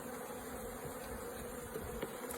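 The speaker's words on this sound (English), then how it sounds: "They're not angry, are they, these bees?" Honey bees buzz around an open hive on a warm day during a hive inspection, a dense, steady droning hum filling the whole stretch, close and continuous with no speech.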